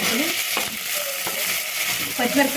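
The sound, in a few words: curry leaves and green chillies sizzling in tempering oil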